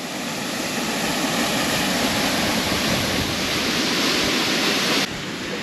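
A waterfall in a Spanish gorge pours as a loud, steady broadband rush close by, with no voices, continuing unbroken until a slight drop in level near the end.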